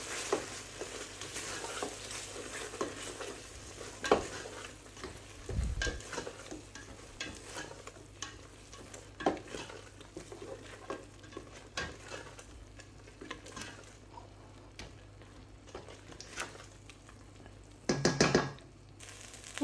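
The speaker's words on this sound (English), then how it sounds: "We're also going to add in the coriander leaves. And we're just going to stir this in." Coriander leaves are stirred into a frying spinach curry pan, and the oil sizzles steadily under soft, repeated scraping strokes. A couple of louder bumps from the pan break in, with no voices.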